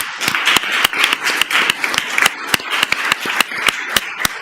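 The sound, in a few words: audience applause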